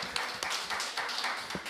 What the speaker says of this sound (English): Can we give both teams a round of applause?